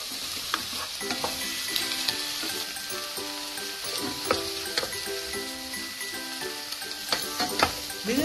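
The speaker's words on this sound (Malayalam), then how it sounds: "ചിക്കൻ ആഡ് ചെയ്തതിനു ശേഷം നല്ലതുപോലെ ഒണിയനായിട്ട് മിക്സ് ചെയ്യണം" Chicken stirred together with onions in a hot pan, a loud continuous sizzle with spatula scrapes and knocks scattered throughout, close up.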